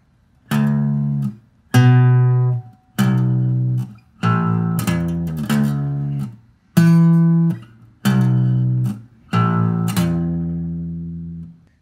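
A guitar plays a riff: about nine separate plucked notes, each ringing clearly and decaying before the next, spaced at an even, unhurried pace with no talking.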